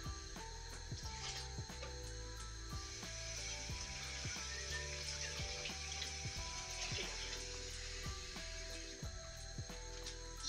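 Water poured into a simmering chicken tikka masala sauce, a steady close trickling splash lasting several seconds over faint bubbling, with no talk.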